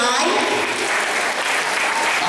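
Sustained audience applause at an inter-school math and science quiz bee, dense continuous clapping from a hall crowd, loud and even throughout with some talk mixed in underneath.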